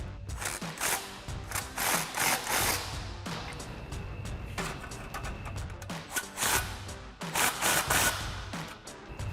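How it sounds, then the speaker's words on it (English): An impact wrench with a 13mm socket tightens exhaust clamps on a 2013-2014 Mustang GT cat-back exhaust. It gives repeated bursts of rattling mechanical hammering, each separated by brief pauses. "We're gonna grab our impact and 13mm socket and tighten them all the way down."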